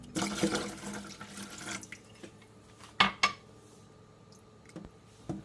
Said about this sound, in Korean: 여기에 찬물 500ml를 넣어줍니다.